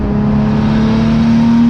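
A Nissan 180SX sports sedan at Winton accelerates hard out of a corner, its engine holding a steady, loud, close drone that climbs slightly in pitch over a short burst with no talk.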